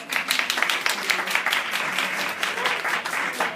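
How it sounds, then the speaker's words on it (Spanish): A live showcooking audience applauds for Enrique, a brisk, continuous burst of many hands clapping at close range, loud and even throughout. "Un aplauso, Enrique, por favor"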